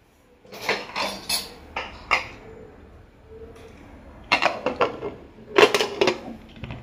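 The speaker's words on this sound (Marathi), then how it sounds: "आता कुकरला ढाका लावतो" Metallic clinks and clanks of a pressure cooker lid being fitted and pressed shut, in two short bursts separated by a quiet pause.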